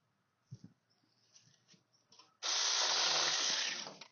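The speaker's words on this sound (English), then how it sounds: "Here's the first limb I'm going to trim back. Rip right through it." A Saker mini chainsaw rips through a tree limb during fall farm pruning: after a few faint handling knocks, a loud, steady buzzing cut starts abruptly and runs close and continuous for about a second and a half before easing off.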